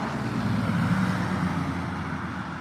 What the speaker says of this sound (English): There's still a lot of traffic.